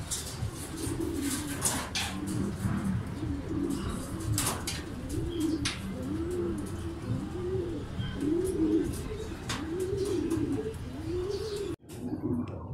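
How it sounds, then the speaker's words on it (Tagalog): Several racing pigeons coo in repeated rising-and-falling phrases, fairly close, with faint chirps and occasional wing flaps in a busy loft during a race return. "Ayan yung mga ibon natin sa dalawa, tatlo, apat"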